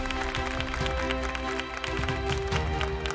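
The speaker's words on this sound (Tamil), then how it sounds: "ஸோ ஒரு பலத்த கைத்தட்டலோட லெட்ஸ் வெல்கம் செம்புலி ஜெகன்." Audience applause on a television comedy show stage welcomes a guest, a steady crackle of many hands mixed with loud, sustained music.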